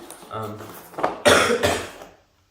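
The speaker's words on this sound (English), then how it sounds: "Got a bit of a cough going around lately." A couple of harsh, close coughs following a brief voiced sound, then silence.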